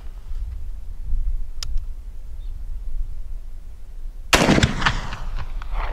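A single loud, close black powder cartridge rifle shot cracks out after several seconds of quiet outdoor ambience, followed by a rolling, decaying report.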